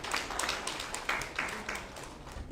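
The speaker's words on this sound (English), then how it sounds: "Once again, let's give the young man a round of applause." An audience at a national Muslim conference applauds a young man, with faint, scattered clapping that sounds fairly distant and lasts a couple of seconds.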